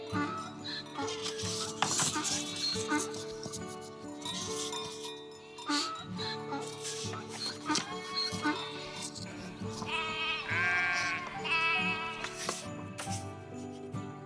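Sheep and lambs bleat in a stable, with repeated wavering cries at close range that blend with a narrating voice and soft background music.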